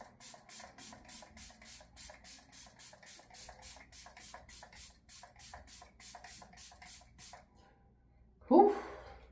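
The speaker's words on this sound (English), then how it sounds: "I am using the Juvia's Place setting spray" A Juvia's Place setting spray is pumped again and again in quick, even bursts of fine misty hissing, about twenty close together, before a short pause and a louder rustle at the end.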